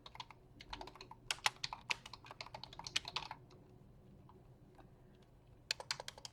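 Quiet keystrokes tap on a computer keyboard while text is entered into a Microsoft Project task, bursts of brisk irregular clicks, a pause, then a fresh run of typing, with no speech.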